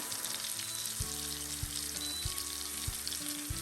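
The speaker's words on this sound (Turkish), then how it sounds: "Böyle kanatları pişiriyoruz sarana kadar közlenir" Chicken wings frying in a pan, a continuous close sizzle under a low steady hum, with several sharp clicks or taps spaced through it and no talking.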